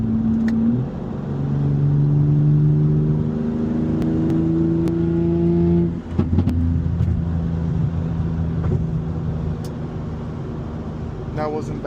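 A tuned BMW M3 (G8X) running E40 or E50 ethanol fuel revs hard, rising gear by gear through several pulls, loud and close, then settles into a steady drone.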